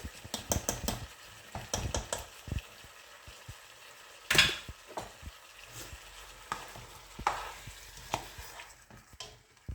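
Three pressed tomatoes and two spoonfuls of tomato paste frying in a pot for Kabuli rice with meat, a soft steady sizzle broken by frequent sharp clicks and scrapes of a spoon stirring against the pan.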